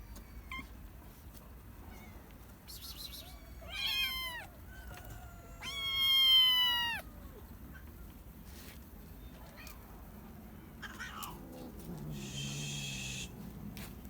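Cats meow at a doorway: two clear, wavering meow bursts rise above a hushed, noisy background, followed by faint rustling.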